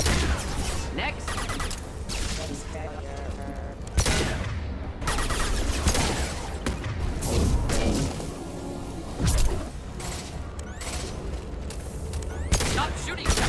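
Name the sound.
gunfire in the video game Mass Effect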